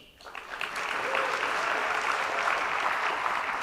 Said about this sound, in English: Give them a big hand, that's fine. I'm just a conduit. Clap for them, absolutely.